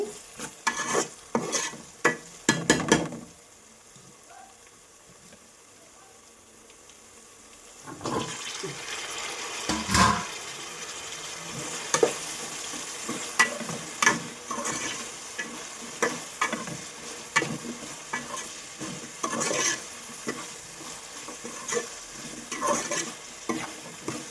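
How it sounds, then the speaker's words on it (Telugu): Onions fry in a pan, a soft sizzle broken by repeated sharp scraping and stirring clatters, with a quieter lull early on before steady frying and spoon knocks resume. "ఉల్లిపాయలు అయితే చక్కగా మగ్గిపోయాయండి"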